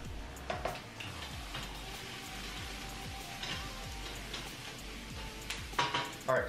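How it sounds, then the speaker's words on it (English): Steady crackling sizzle of bell peppers frying in a pan, with a few clinks and scrapes of a utensil near the end and no talking. "let those bell peppers sizzle for just a couple minutes"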